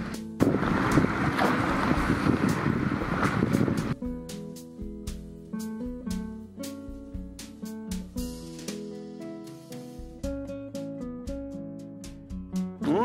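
Wind rushes loudly past a boat heading back upwind on a lake, a steady broadband roar for the first few seconds before it gives way to tonal music for the rest.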